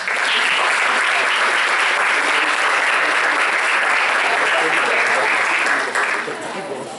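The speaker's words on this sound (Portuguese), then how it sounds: "Por favor, uma salva de palmas a todos." Sustained applause fills a hall at a medical student event, a dense, even wash of many hands clapping that holds steady before tapering slightly at the end.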